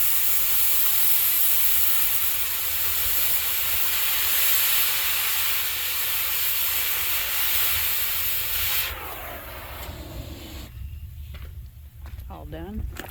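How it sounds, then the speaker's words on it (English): A torch cuts the last bolt off a bare truck frame for a homemade roll-off build, giving a loud, continuous hissing roar that suddenly stops partway through, leaving quieter clanks and faint sounds behind. "He's got one more bolt to go that he's cutting."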